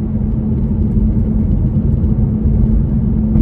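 A 2005 Mazda3 engine runs steadily with a loud, constant mid-pitched drone and rumble, heard up close with no rising or falling swell and no talk.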